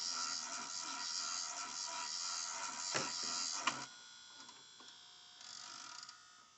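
A faulty VCR rewinds with a steady, faint mechanical whir, broken by a few sharp clicks and cutting-off noises before the motor note changes, heard alone without talk.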